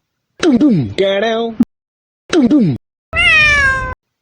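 A person mimics a cat's meow several times, with sliding nasal vocal tones in short bursts separated by pauses, close and loud with no other sound.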